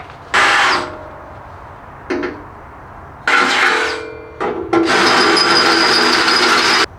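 A power drill with a small bit bores holes for a chassis-mounted wing on a C5 Corvette, heard as several loud bursts of whirring, a short first run, a brief blip, then longer sustained runs with pauses between.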